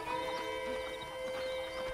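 Horse hooves clip-clop on a ranch in the video game Red Dead Redemption, a steady rhythm of soft, close thuds under a sustained tonal ambient bed.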